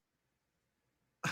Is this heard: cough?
yes